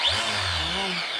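A gas grass trimmer cuts grass with a close, buzzing engine drone that wavers slightly in pitch over a short burst.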